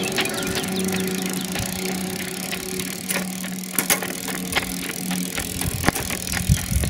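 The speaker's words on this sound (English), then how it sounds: "let's give the electronic shifter a try" A DIY electronic bicycle derailleur shifts gears on a spinning drivetrain, with a steady chain whir underneath and several brief clicks and clunks as the gears change, close up.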